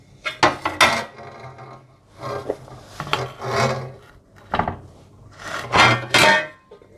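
A baked chicken and green onion quiche is lifted out of its dish onto a serving plate, with close, repeated scraping and rubbing strokes of utensil against dish in several bursts and short pauses, no voices.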